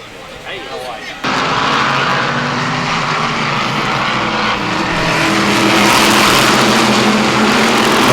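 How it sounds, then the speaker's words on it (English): Race cars roaring around a track at a New England racing event, a dense, loud engine drone that jumps up sharply after the first second and holds steady and continuous, with a commentator's voice underneath. "That's a number 12 out front, Todd Anarumo."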